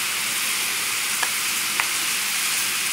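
Butter melting and sizzling in a pan with shrimp for a Creole/Cajun basil garlic butter dish, a steady bright hiss with a couple of faint ticks, alone and even throughout.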